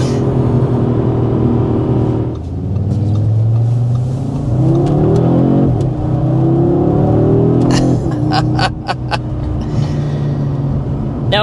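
A 2026 Audi RS3 in its most aggressive performance mode pulls hard through the gears, its engine note climbing and dropping with gear changes in a loud, continuous rumble from start to finish.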